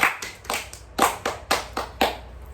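Children in a classroom clap their hands together in a patterned rhythm of grouped claps with short pauses, close and clear with no talking.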